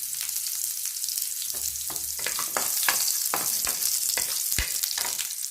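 Garlic fries in oil with spluttered mustard seeds and urad dal for a raw banana stir-fry. A loud, steady sizzle carries a burst of rapid crackles and pops, heard close with no talk.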